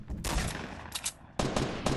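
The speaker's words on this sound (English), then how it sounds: "He doesn't even know I shot at him." Bursts of rapid gunfire from a Fortnite match crackle in two loud, close volleys with a brief lull between them, with no voices over them.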